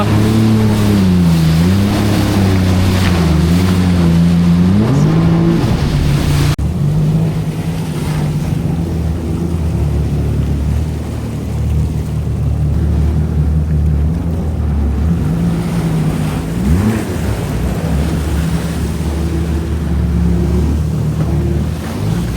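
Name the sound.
motorboat engine revving on water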